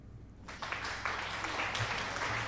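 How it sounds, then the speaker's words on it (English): Steady clapping from a small group begins after a brief quiet moment and continues evenly, fairly close and moderately loud. "thanks for the applause"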